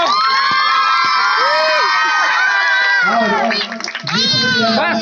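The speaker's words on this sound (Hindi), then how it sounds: "जोरदार तालियां बजाओ बच्चे लोग" At a village Diwali rangoli competition, a crowd of children shouts and cheers loudly and excitedly, with brief clapping mixed into their high-pitched voices.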